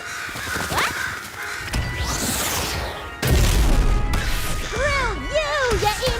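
Crows cawing in a video game, harsh repeated caws mixed with crashing game effects and a loud impact partway through, while a voice talks over the action.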